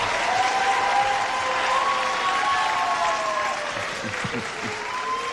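A studio audience at an early-1980s NBC daytime game show applauds loudly and steadily, with a dense clapping wash sustained throughout and faint music tones underneath.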